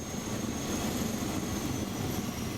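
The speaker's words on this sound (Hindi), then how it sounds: "अमेरिका के कंसास की सेस्ना एयरक्राफ्ट कंपनी इस विमान का निर्माण करती है।" A single-engine Cessna light aircraft flies nearby, a steady droning engine and propeller roar holding at an even loud level throughout with no pauses.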